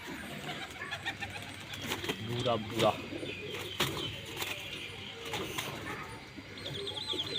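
Pigeons kept by a Punjabi fancier coo in gentle, burbling bursts close by, mixed with chirps and occasional knocks, while someone talks briefly over them.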